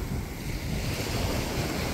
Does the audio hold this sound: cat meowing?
no